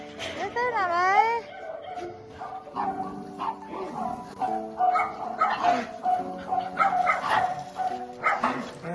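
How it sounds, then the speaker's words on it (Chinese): A tiny puppy rescued from a dog-meat truck at a stray animal rescue centre gives high whimpering yips and whines, mixed in and around people talking nearby. "这是那个狗狗车救助的小毛孩"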